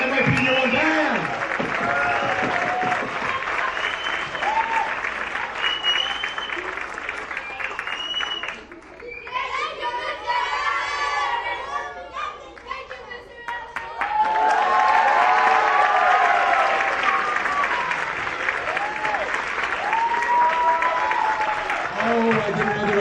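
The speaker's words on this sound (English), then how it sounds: "One round of applause for the NYP Year 1 band." A school band's audience claps loudly and steadily, with some cheering, easing into a brief lull midway before the applause swells again.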